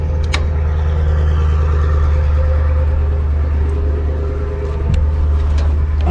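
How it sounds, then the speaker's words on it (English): A car engine runs steadily at close range, a low continuous hum and rumble with a slight shift near the end, no voices over it. "Oh, they turned your car on, dude."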